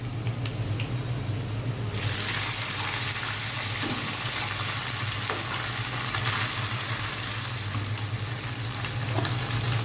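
Water hits hot fried onions in a pan, bursting into a loud, sustained sizzle that continues steadily and close, with faint stirring underneath.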